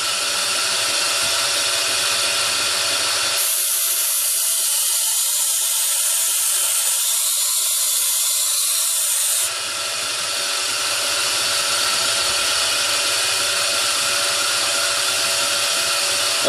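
A knife blade is sharpened on a belt grinder, giving a loud, steady abrasive hiss and whine that runs throughout, its tone shifting noticeably for several seconds midway as the blade's weight rides against the moving belt.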